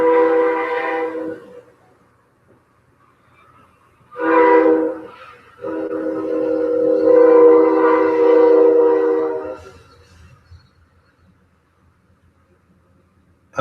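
A train passes with its horn sounding in long, loud blasts, two separated bursts with a short gap and then a sustained stretch, fading to quiet afterward.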